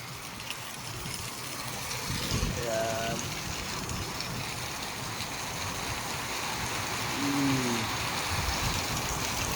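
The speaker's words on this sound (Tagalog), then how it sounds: "Sobrang lakas ng ulan." Heavy rain pours steadily over a mountain village at Puncan, Carranglan, a dense continuous hiss throughout with faint brief tonal sounds and no talking.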